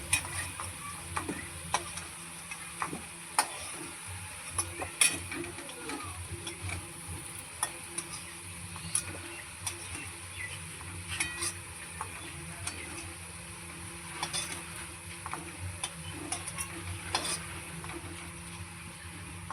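Potato pieces are stirred and lifted from hot frying oil, soft continuous sizzling with scattered clicks and scrapes of a utensil against the pan, fairly quiet and steady throughout.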